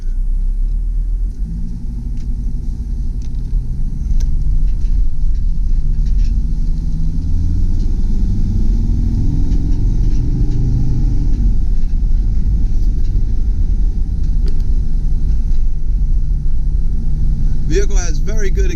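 A 2005 Freightliner Sprinter 10-passenger turbo diesel van accelerating: a steady, loud low engine rumble that builds in pitch, with someone talking over it throughout.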